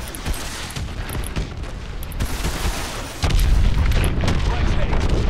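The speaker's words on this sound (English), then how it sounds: "Lock onto those hard points and hit them with your missiles." Missiles striking the hard points of a hydroelectric dam in Call of Duty: Advanced Warfare, with heavy booming blasts and rumbling gunfire that swell louder partway through, while voices talk over the barrage.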